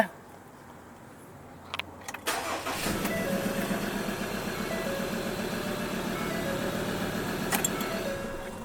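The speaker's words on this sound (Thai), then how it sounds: "อ่ะ กุญแจรถนะครับ ออนกุญแจ มีลังดันไหมครับ ไม่มีนะครับ อ่าสตาร์ทเครื่องนะ" A Ford 3.2 pickup engine cranks and catches after a few faint key clicks, then settles into a steady, loud running idle close by, with a brief louder burst near the end.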